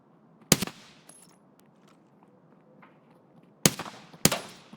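Automatic gunfire from a team shooting nearby in a video game comes as three sharp, loud bursts: one early on, then two close together near the end, separated by a quiet stretch.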